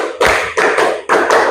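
A classroom of students claps hands together three times in a quick, uneven count, each clap sharp and close, with no voices between them.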